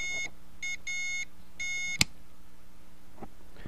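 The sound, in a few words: CW Morse side tone beeps from ham radio beacon keyer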